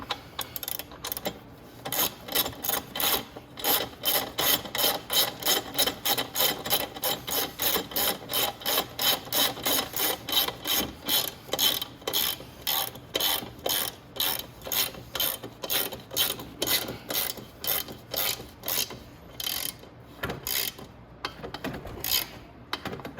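A ratchet wrench tightening the rear wheel axle bolt on a Venom X22 125cc motorcycle, producing a long, loud, even series of clicking pawl strokes in steady rhythm, close by with no talking.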